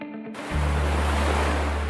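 Ocean surf rising out of near silence into a steady, broad rush of breaking waves, loud and close, continuing without pause.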